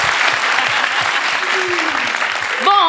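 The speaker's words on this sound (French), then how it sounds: "Applaudissez-moi quand même un peu." Studio audience applause on a live outdoor music radio show, a short, dense burst of clapping from a crowd, steady and fairly loud, ending as a voice begins to speak.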